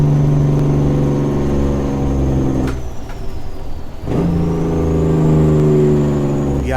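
A Viper truck hauling a Fruehauf tanker trailer in American Truck Simulator drones steadily with a loud, close engine hum, dipping briefly as it shifts gears and then climbing back up to a sustained pull.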